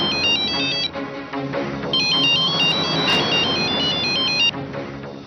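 A mobile phone ringtone plays a bright, repeating electronic melody, loud and close, pausing briefly before the phrase repeats over a busy background.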